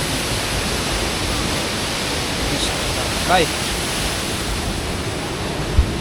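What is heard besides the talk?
waterfall water rushing, Nafakhum area, Bandarban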